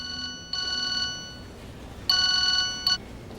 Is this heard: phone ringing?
yes